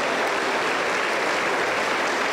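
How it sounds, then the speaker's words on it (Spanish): A church congregation at a Monday doctrine service in Junín, Peru claps in a dense, continuous burst, loud and close throughout. "Aplauso para el Señor Jesús."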